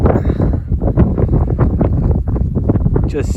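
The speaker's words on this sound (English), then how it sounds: "as predicted, the wind did pick up" Strong wind gusting against a guyed-out Alpkit Tetri tent during a wild camp on Kinder Scout's moorland in the Peak District, a loud, close buffeting roar with fabric flapping that fills the whole short stretch.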